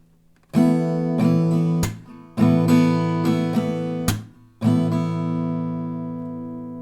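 An acoustic guitar is strummed in short rhythmic bursts, each chord ringing out, with sharp percussive hits breaking up the pattern before a final chord fades.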